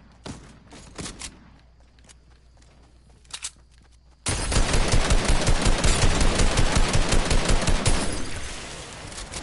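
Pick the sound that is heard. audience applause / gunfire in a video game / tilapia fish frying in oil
gunfire in a video game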